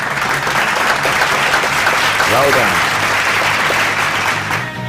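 A school debate audience applauds steadily in a loud, dense burst of clapping that fills the room, while a voice speaks briefly over it.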